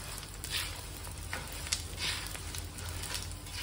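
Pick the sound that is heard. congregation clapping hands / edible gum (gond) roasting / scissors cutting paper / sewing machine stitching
edible gum (gond) roasting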